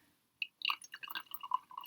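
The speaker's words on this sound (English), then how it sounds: "I'm gonna pour myself some more tea." Tea poured from a teapot into a new ceramic teacup, a short quiet trickle after a brief clink, with small splashy drips and a rising fill over about a second and a half.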